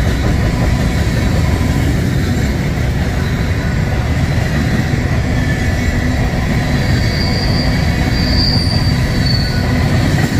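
An eastbound grain freight train rolls past on the Emporia Sub at Gardner, Kansas, loud and close, its wheels squealing in a continuous dense roar of rail noise with no voices.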